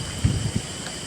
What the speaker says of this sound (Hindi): और बारिश अब ज़्यादा ही होने लगी है यार